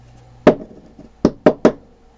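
Four sharp wooden knocks of a brush maker tool being tapped down to flatten a bundle of brush bristles: one knock, a pause, then three quick ones close together, all loud and near with no talk.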